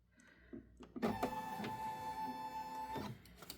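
A computerized embroidery machine stitches close by after its bobbin thread failed to catch, starting with a few clicks before a steady whirring mechanical hum with a fine tonal whine runs for about two seconds and stops.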